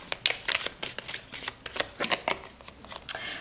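Tarot cards shuffled for a new reading give a rapid series of close, crisp riffling flicks and soft slaps, irregular in rhythm and quiet overall, with no voice over them.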